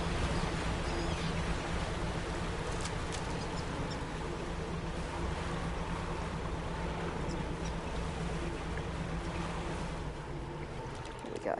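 A water spout at sea in the Dredge video game gives a steady, dense rushing roar of wind and churning water that stays loud and constant, with faint crackling detail on top.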